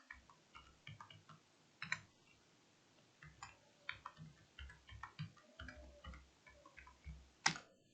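A password being typed on a computer keyboard, a quiet, close series of irregular key clicks with a sharper final keystroke.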